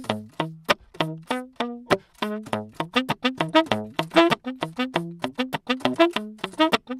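A beatbox saxophone imitation from a single voice: a choppy, pointillistic staccato melody of short buzzy notes against percussive mouth beats, steady and close with no accompaniment.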